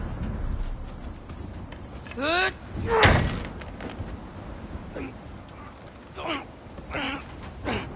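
A frozen door being forced open in God of War Ragnarok: a sharp slam-like thud and crack at the center, with lighter impacts before and after, close and loud, under voiced effort and grunts.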